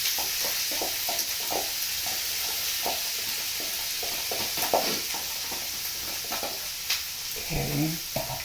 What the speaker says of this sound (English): once that butter's going, I will throw in the onions. And let them saute